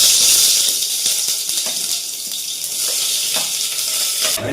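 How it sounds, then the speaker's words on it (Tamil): Onions sizzling and frying in hot oil for chicken biryani, a steady loud hiss with faint stirring clatter throughout, no talk. "நல்ல எண்ணெய் சூடான உடனே ஆனியனை போடவும்"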